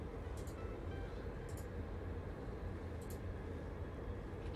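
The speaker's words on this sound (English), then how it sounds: "I'm going to set this train to cycle back and forth" A train runs steadily through a game world in Satisfactory, giving a continuous dense rumble with faint high squeaks that repeat at regular intervals, like wheels over rail joints.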